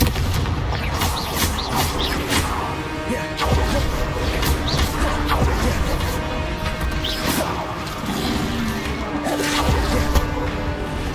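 Confringo blast spells in Hogwarts Legacy go off as repeated booming explosions and crashes, loud and close, mixed with whooshing bursts throughout a busy duel.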